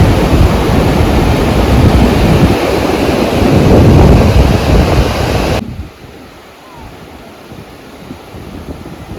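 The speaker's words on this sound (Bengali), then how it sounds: "জল এসে আমার পায়ে স্পর্শ করছে প্রথমবারের মতো বকখালি সি বিচ।" Sea waves washing up on Bakkhali sea beach, a loud roaring surge with strong wind noise that abruptly drops to a softer, distant wash.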